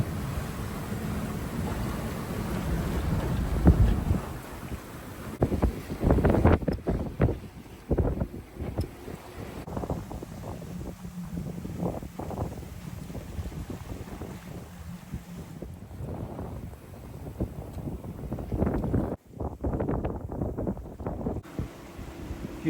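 Gusty wind buffeting a boat anchored in a bay off Puerto Rico, a loud rushing roar with heavy microphone wind noise that rises and falls in gusts throughout.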